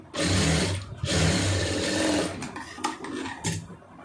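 A sewing machine runs in two steady bursts while stitching an armhole seam, loud and close, then slows into a few short clattering stops and starts.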